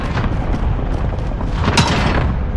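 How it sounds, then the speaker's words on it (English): Cluster strike explosions in Call of Duty: Modern Warfare rumble as a dense, continuous wash of loud booms and thuds with scattered sharper bursts, heavy and sustained throughout. "Allied cluster strike arriving"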